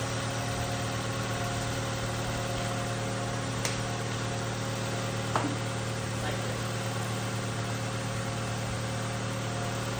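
A warmed-up car engine idles steadily with a low, constant hum and slight vibration, unchanging throughout apart from two faint clicks.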